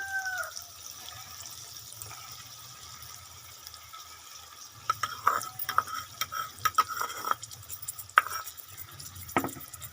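Yogurt being stirred into chicken in a pot, with scattered wet scraping and clinks of a spoon against the pot after a quiet start, close by with no talk.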